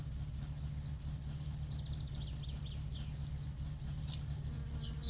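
A car engine warming up in the video game My Summer Car, idling with a steady, faint low rumble throughout, with light buzzing chirps above it and no talk.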